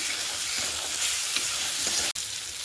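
Fish frying in a pan with salt and turmeric while being stirred, a steady loud sizzle with intermittent scraping strokes, no talking.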